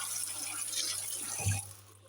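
Tap water runs steadily over artichokes in a sink while they are rinsed, a continuous splashing wash that swells briefly near the end before fading.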